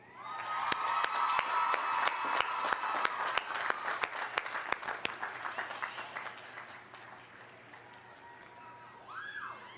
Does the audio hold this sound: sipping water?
no